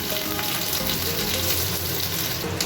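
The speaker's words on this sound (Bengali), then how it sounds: "এবার এর মধ্যে তেলের মধ্যেই গোটা গরম মশলা ফোড়ন দিয়ে দিচ্ছে, তেজপাতা, এলাচ, লবঙ্গ," Whole bay leaf, cardamom, clove and cinnamon frying in hot oil, giving a steady, dense sizzle that runs on without a break, close up and with no voices.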